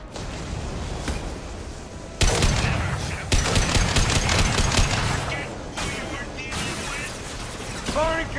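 Sci-fi weapon fire in Mass Effect Legendary Edition, with loud bursts of shots and clattering impacts in a chaotic firefight, mixed with game sound effects.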